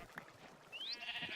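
In the Minecraft game, a soft blip is followed by a brief sheep bleat, heard near and fairly quiet with no talking.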